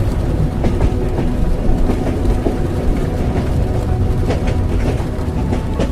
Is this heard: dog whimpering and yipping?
no